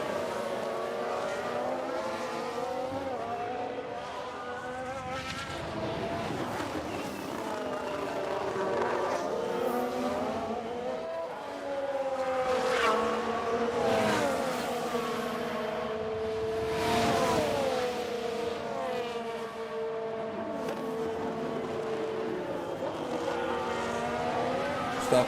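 F1 race cars in the F1 Manager video game scream along steadily for a long stretch, with high engine whines rising and falling through gear changes as cars pass and follow one another close behind, never breaking off.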